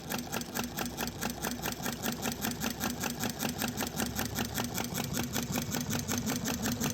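A small flame-eater engine, preheated and spinning at around 300 RPM, chatters with a fast, even mechanical ticking, close and steady with no voices.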